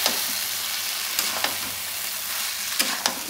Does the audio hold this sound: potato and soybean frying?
yes